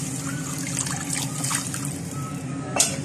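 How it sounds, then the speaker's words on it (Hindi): Water trickles steadily into a garlic, ginger and onion paste for a beef khaowsay curry, a soft continuous pour close by with a small splash near the end. "अब ये इसके अंदर हम थोड़ा उसको पानी और शामिल करेंगे"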